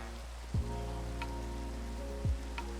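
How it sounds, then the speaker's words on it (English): Steady rain falls in the video game Minecraft, a constant broadband hiss with a few louder sweeping tones and brief clicks over it, and no one speaks. "Rain again."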